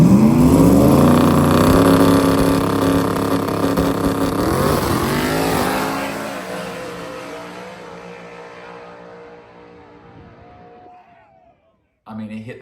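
A rear-wheel-drive car launches at a drag race in an AWD vs RWD shootout, its engine roaring loud and close, rising in pitch through the run, then fading away into the distance before a brief noise at the end.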